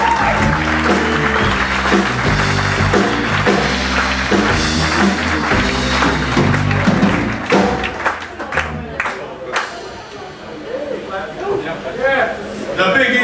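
Boogie-woogie piano music plays as an audience in Paris breaks into applause for the keyboard player, then the clapping continues mixed with crowd noise and someone speaking.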